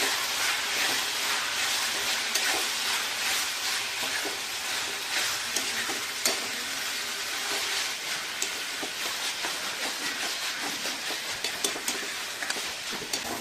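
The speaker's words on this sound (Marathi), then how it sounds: "आता याला चांगलं एकजीव होईपर्यंत परतून घ्यायचं।" Pav bhaji masala gravy sautéing in a pan hisses in a loud, continuous sizzle for a long stretch, dotted with frequent small clicks and scrapes of stirring.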